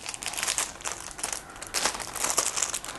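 Plastic packaging around bracelets crinkles and crackles close up in repeated bursts during unboxing, loud and uneven with no talk over it.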